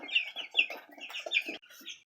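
Chickens cluck busily at close range on a small Jamaican poultry farm, a steady run of overlapping bird calls for about two seconds before they trail off.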